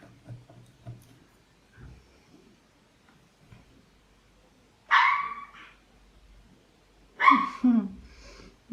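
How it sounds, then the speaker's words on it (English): A dog barks in two loud bursts a couple of seconds apart, with fainter thumps and muffled sounds in a quiet room beforehand. "she is barking a lot every time someone is on the corridor"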